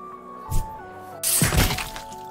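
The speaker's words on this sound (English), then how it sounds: "The sound of a skull shattering resounded, followed by the hiss of blood gushing." A skull shatters in the horror video game Iwaihime: Rokugamihime. A short thunk comes first, then a loud, crunching break that spreads into a hissing spray over a sustained musical drone.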